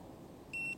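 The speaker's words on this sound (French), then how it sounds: "tu as entendu le bip" A bait boat's line-release button held for three seconds gives a single clear electronic beep, short and steady, arriving after a moment of quiet low background noise.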